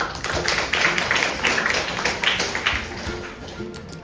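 Seminar audience at a lung cancer awareness event in a medical college hall clapping for the speakers, a steady dense patter of many hands sustained throughout at moderate loudness.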